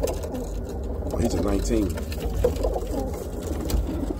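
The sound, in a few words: Birmingham Roller pigeons cooing in loft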